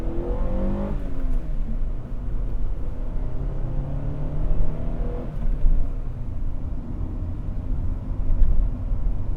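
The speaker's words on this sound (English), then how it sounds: "let's give it full throttle uphill" A 1994 Honda Prelude with a manual gearbox is driven at full throttle uphill, its engine roaring and climbing steadily in pitch, loud and continuous with no talk.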